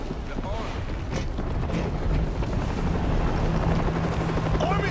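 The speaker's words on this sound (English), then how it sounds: "Army chopper!" An army helicopter flies in the World War Z video game, its steady, loud rotor thrum rolling on close by with scattered booms and mechanical clatter mixed in.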